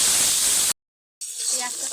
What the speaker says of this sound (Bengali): পেঁয়াজটাকে লাল লাল করে ভেজে নিই।